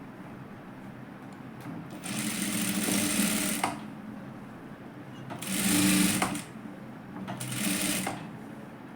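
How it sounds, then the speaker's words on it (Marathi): Sewing machine stitching the pieces of a katori blouse, running in three separate bursts of steady mechanical whirring, each lasting about a second or two, with quiet gaps between and a few brief spoken words. "हे शिवून घ्यायचं"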